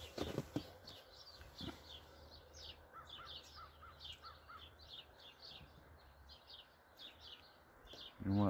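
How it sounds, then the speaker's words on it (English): Crows caw repeatedly from a distance in a back yard, a run of short calls spread over several seconds above faint outdoor ambience, with a few knocks at the start and a loud thump at the end. "Crows are up there."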